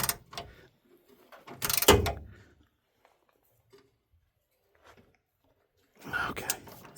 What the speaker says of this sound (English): Alright, so I'm gonna take my 1/2 inch ratchet here.